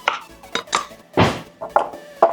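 A knife cuts through a lemon on a cutting board, giving a few distinct close knocks and slicing thuds spaced irregularly, with no talking.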